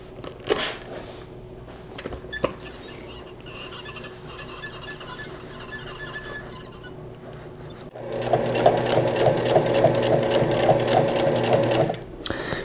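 A sewing machine top stitches the bottom hem of a button-up shirt made from a bed sheet, running softly at first, then a loud, fast, even whirring burst from about eight to twelve seconds.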